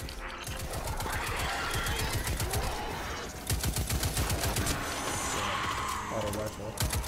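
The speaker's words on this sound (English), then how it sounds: "Auto rifle." Auto rifle fire in Destiny 2 comes as long, rapid strings of shots in fast, even bursts, with a brief pause in the middle. Game sounds and voices run underneath.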